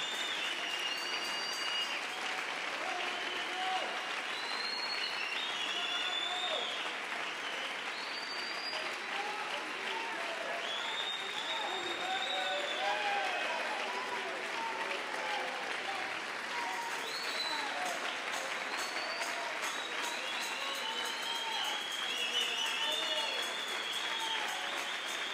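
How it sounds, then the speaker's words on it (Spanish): A church congregation at a Friday evening service applauds steadily for the full stretch, a dense, even wash of many hands clapping with no break, fairly distant in the room. "Dale tu mejor aplauso al Rey de Gloria."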